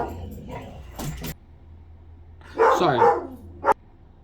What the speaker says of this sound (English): Apparently when someone comes over, they just love to bark.